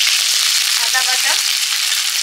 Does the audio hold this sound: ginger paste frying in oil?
yes